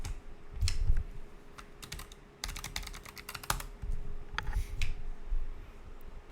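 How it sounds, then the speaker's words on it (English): Rapid clusters of keyboard clicks, close and fairly crisp, with short pauses between bursts of typing over a low steady hum. "typing one-handed as always"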